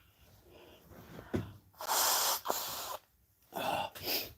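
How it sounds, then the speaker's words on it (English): Two loud, wet nose blows in close succession, each a harsh rushing burst with a brief pause between, preceded by a few soft sniffs. "I'm gonna have to blow my nose."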